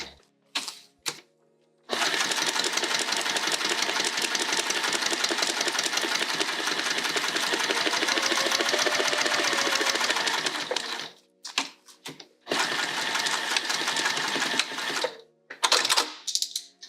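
Sewing machine stitching through fabric, a fast steady whirring chatter for about nine seconds, then short bursts and pauses, then another long run, close and clear with no talking.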